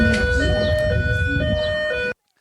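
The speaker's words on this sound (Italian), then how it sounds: "L'allarme è scattato poco prima delle 14:10 e le sirene hanno iniziato a suonare." Alarm sirens on Stromboli island, warning of the volcano's eruption, hold a loud, steady wailing tone for about two seconds and then cut off abruptly.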